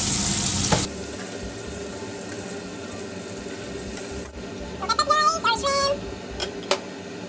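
Shrimp sizzling in a frying pan, a steady broadband hiss running throughout, with a few brief utensil clinks and scrapes near the end.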